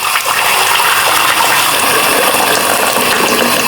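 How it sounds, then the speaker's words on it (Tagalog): Steady, loud rush of heated water pouring into a soup pot, close by and continuous with no talking. "Lagyan lang tayo ng ating pinainit na tubig."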